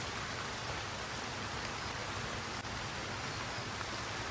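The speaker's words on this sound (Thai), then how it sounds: "ก็เป็นอย่างที่ผมคิดไว้นะครับว่าฝนมันตกนะครับ" Steady, dense hiss of rain falling on Ko Chang island in Trat, Thailand, an even wash of sound with no breaks or voices.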